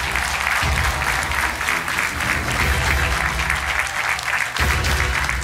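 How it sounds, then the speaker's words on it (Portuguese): A game-show studio audience bursts into loud, sustained applause, dense clapping that holds steady throughout, with music underneath and a brief dip before it swells again near the end. "O vosso aplauso para o Marco Rosa."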